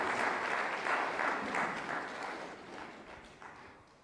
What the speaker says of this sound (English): Give yourselves a nice clap.